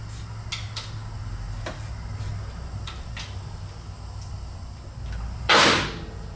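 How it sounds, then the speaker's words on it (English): Socket wrench working the cylinder head bolts on a KTM 300XC-W still mounted on the bike, giving a series of sharp metallic ticks and clicks at an uneven pace, then one louder rasping burst near the end, heard close up with no talk. "I just break them all loose and then come back in with the socket, and it's easier to spin them out by hand."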